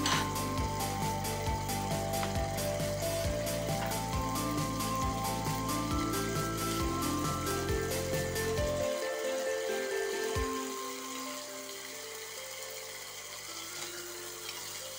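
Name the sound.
fish curry ingredients frying in a pan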